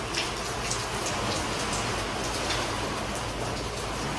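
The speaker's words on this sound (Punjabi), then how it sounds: "ਮੀਂਹ ਪੂਰੇ ਜ਼ੋਰਾਂ ਸ਼ੋਰਾਂ 'ਤੇ ਆ ਚੁੱਕੇ" A steady, loud downpour of heavy rain hisses continuously and close, with flooded lanes and drains nearby, unbroken and without any voices.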